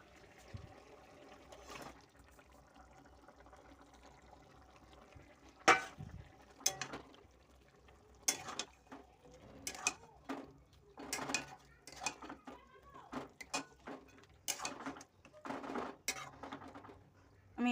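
Chicken being stirred into a cooking pan for a yogurt chicken curry, with scattered clinks and scrapes of a utensil against the pan and soft liquid sloshing, close by and intermittent.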